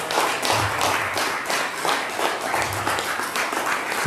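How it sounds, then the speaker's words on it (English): A church congregation clapping hands in praise, loud steady clapping with a rhythmic pulse throughout, close and full. "let's give the Lord a hand clap of praise"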